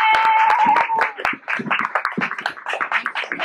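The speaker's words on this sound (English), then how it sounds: "Let's give you a big round of applause" A burst of clapping from a small group, fast and uneven, mixed with cheering voices and a brief whistle-like tone at the start.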